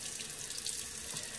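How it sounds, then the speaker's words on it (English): Hot water rushes steadily from a kitchen sink tap onto a cast iron pan, a constant close hiss and splatter with no talking. "I'm going to turn the hot water on."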